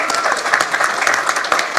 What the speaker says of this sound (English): You can clap, it's okay.